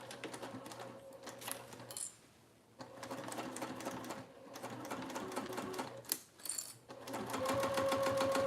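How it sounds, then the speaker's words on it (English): A sewing machine runs steadily as it stitches across a full seam allowance, its rapid needle chatter continuing through most of the stretch with one brief pause and a slight change in pace toward the end. "I'm gonna sew at my full seam allowance, and I'm gonna come all the way across"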